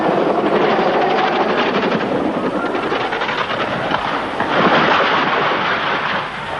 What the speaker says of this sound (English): allowing the tail of the chopper to become entangled in the lifting cable.